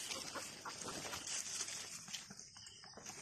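A chicken clucks on a native pig farm amid busy outdoor background noise, with short calls scattered through the stretch.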